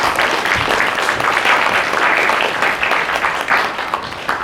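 Sustained audience applause fills a Korean youth forum hall as a political talk host is welcomed onstage, dense steady clapping throughout without a break.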